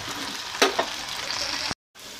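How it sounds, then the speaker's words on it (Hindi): Pumpkin peel and seeds dropped into hot oil in a home kitchen, sizzling and frying steadily with a couple of louder stirring bursts, close and alone, before a brief cut to silence. "जो कोहड़ा का छिलका है या कोहड़ा का बीज है तेल गरम में डालें"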